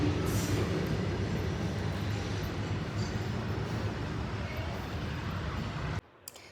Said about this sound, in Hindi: ट्रेन आई है।